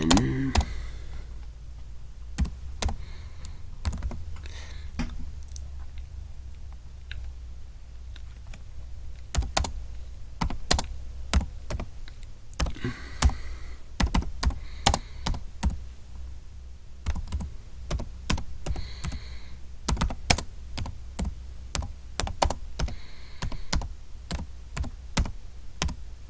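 Search text typed on a computer keyboard while pricing Pokemon cards, many sharp close key clicks in uneven bursts and pauses over a low steady background, with no speech.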